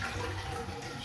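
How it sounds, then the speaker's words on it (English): A shower runs in a house, a steady close rush of spraying water with no change in its flow. "Shower works."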